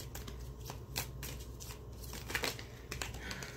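Tarot cards are shuffled close by in a quiet room, a steady run of crisp riffling and flicking snaps with small clustered bursts, fairly soft and alone without talk.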